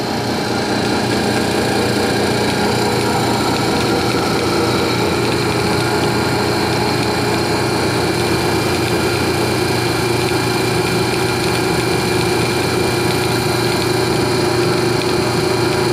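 An old Imperial electric dynamo motor running steadily, a loud continuous hum with layered tonal whine and a constant mechanical drone close by, no variation or stopping.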